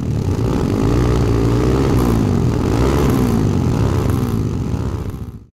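Dafra Horizon 250, a small single-cylinder custom motorcycle with a 1-2 exhaust tip, idling and revving close by: a loud, deep, lumpy thumping engine note that holds steady for about five seconds before cutting off abruptly.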